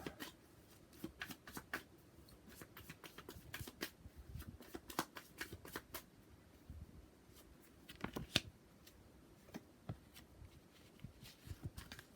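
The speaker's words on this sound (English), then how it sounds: "I'm pulling the cards" Tarot cards are shuffled and pulled from a deck: soft, irregular papery riffles and quick flicks, faint and close, with no talking.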